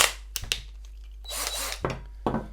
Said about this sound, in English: You guys like my limited edition Lidl Colors Parkside drill?